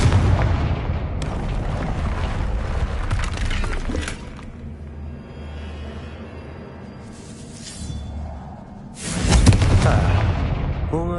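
A Confringo fire spell detonates in the Hogwarts Legacy video game, a loud booming blast with a rumbling tail that fades, then a second sharp burst near the end, set against game ambience.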